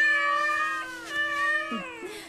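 Kittens meow in a Simsala Grimm Goldilocks cartoon, a steady high-pitched mewing with rising and falling tones, close and loud over about two seconds, with no talking.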